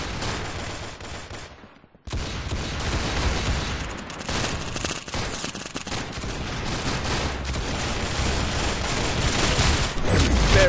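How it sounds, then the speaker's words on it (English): Gunfire from the Roblox-style shooter Arsenal, with dense rapid bursts and booming shots that pile up loudly and almost continuously, broken by a brief silent gap near the start. "Very good shooting."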